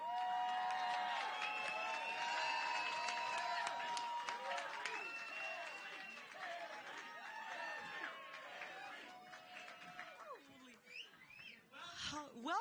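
A large crowd murmurs and cheers throughout at a Trump rally in New Hampshire, a dense, steady roar of many voices with scattered whoops, softening somewhat toward the end.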